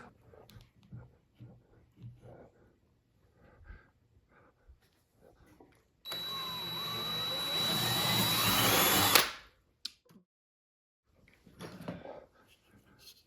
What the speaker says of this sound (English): We have to drill a hole.